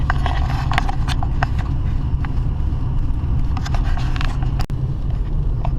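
A car rolls slowly at around 15 to 20 mph over a rough, badly broken road in Alaska, giving a loud, steady low rumble with scattered rattles and knocks from the cabin and one sharp jolt near the end.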